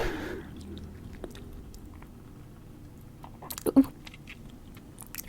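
A close-miked ASMR drinker sips apple juice, making soft wet mouth clicks and isolated small sounds, then a quick cluster of gulps and swallows near the end in an otherwise quiet space.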